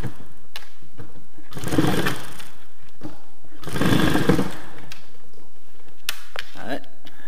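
A 50cc moped fitted with an Airsal T6 cylinder is kicked over, giving two short buzzing bursts of revving that die away between quieter gaps, with a few sharp clicks.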